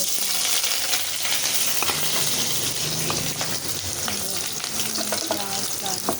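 Onions frying in hot mustard oil in a pan for aloo bhujia, a steady close sizzle with crackling spits and a few light utensil clinks throughout, no talking.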